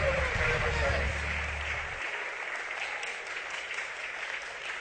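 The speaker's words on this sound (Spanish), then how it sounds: "Den un aplauso fuerte al Señor." Steady crowd applause for a religious broadcast audience, a continuous wash of clapping heard at moderate distance, with a low rumble and talk-like sound in the first two seconds before it continues alone.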